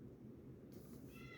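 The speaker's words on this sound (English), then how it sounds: "Sorry about the cat bitching in the background." A cat in the background lets out a short, faint, drawn-out meow over a low room hum.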